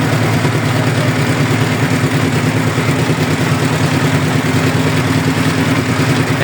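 A boat engine runs on the river route to Sada Pathor, a steady, loud drone with a low rumble that holds unchanged throughout, with no voices.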